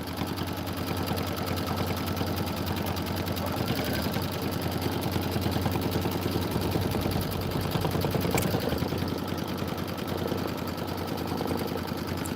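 A sewing machine runs continuously while stitching a Kimberbell Sweetheart Street bench pillow, a steady rapid mechanical whir with dense needle ticking, close and fairly loud, with no voices.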